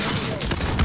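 A brief, dense burst of rapid gunfire from the Call of Duty Modern Warfare video game fills the whole moment, loud and continuous, with a voice faintly mixed in.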